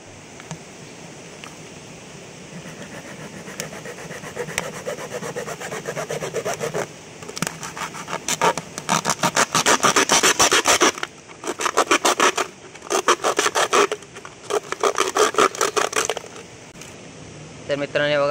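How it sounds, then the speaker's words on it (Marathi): A half-litre plastic bottle is cut for a fish trap, producing rasping, scraping strokes that grow louder and break into choppy bursts toward the end, close to the listener. "सगळ्यात पहिले आधी बॉटल कापूया"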